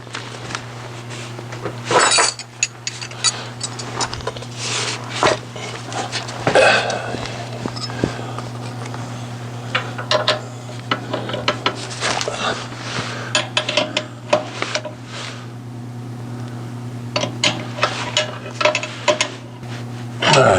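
Metal wrenches clinking and clanking as casters are fitted to a Grizzly G4003G metal lathe in a shop, sharp irregular clinks and knocks repeating throughout over a steady low machine hum.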